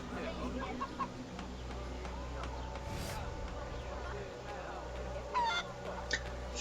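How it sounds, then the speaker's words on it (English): Chickens cluck and squawk in the video game Assassin's Creed Liberation, several short bird calls scattered over a low ambient game soundscape, faint and moderately distant, with a person talking in parts. "Little chicken."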